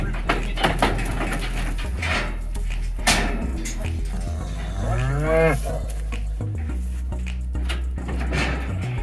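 Cattle moo inside a cattle hauler, with one long, rising and falling bellow close by amid clanks, knocks and shuffling from the trailer and a steady low hum.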